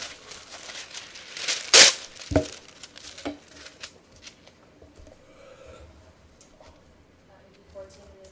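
Material for a mini contour model is cut and torn with a sharp crinkling rip near the start, followed by scattered softer snips and rustles, close and fairly quiet.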